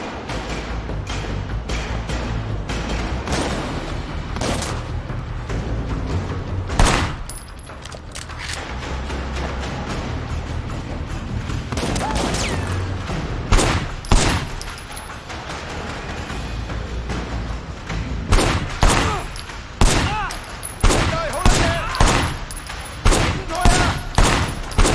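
Gunfire in Sleeping Dogs Definitive Edition: loud bursts of shots over a dense, constant game soundscape, the firing growing quicker and more clustered toward the end.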